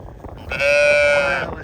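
A sheep or lamb gives a single loud, close bleat lasting about a second, rising out of a murmur of background sound.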